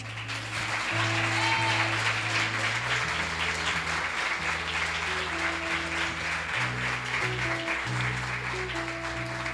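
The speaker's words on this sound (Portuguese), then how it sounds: "Aplauda Jesus aí" Steady, loud applause from a large church congregation during a sermon fills the space, with music droning underneath throughout.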